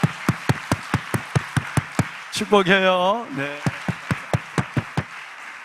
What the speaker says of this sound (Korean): 이 선교사님들 박수 한번 합시다.